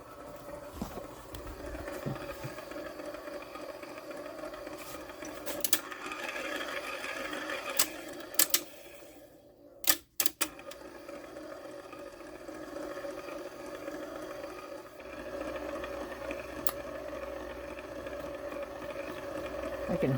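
The motor of a vintage Voice of Music turntable runs noisily with a continuous mechanical whir and rattling drone, briefly interrupted by clunks and a dropout midway, then resuming steadily at moderate, close level.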